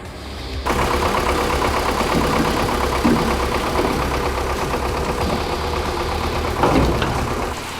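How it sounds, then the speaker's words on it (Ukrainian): A tractor's diesel engine starts up abruptly and then idles steadily with a loud, rumbling chug, close by, with no other sounds over it. "Ось техніка для вилучення техніки з грального закладу. Це трактор. Реально трактор, люди."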